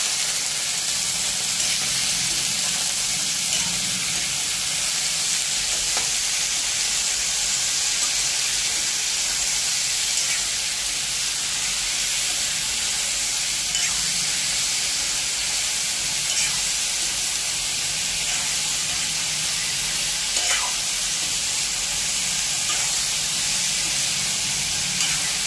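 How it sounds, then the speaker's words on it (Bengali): Vegetable chachari frying in a pan with salt, turmeric and sugar, giving a loud, constant close hiss and sizzle with occasional faint stirring scrapes throughout. "এবারে ভালো করে নাড়াচাড়া করতে হবে।"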